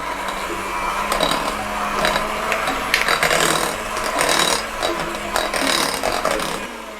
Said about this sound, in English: I'm going to mix that just until combined